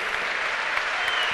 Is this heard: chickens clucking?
no